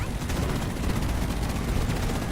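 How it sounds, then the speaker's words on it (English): A fire grenade bursts in a shooter video game, a dense, loud roar of explosive noise sustained throughout with crackling bursts layered over a heavy low rumble. "Let me throw a fire grenade"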